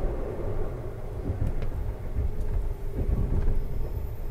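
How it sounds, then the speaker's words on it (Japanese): Steady low rumble of a moving train heard from inside, with wheels clacking over rail joints and faint squeals, no voices, as an E235 series electric train runs side by side with a 285 series train. "E235 系と285系の並走です。"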